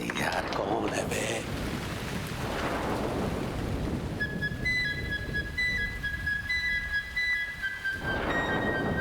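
Stormy-night thunderstorm in a TV comedy scene: steady heavy rain hiss with low rumbling throughout, plus a brief tonal chime in the middle, no talk.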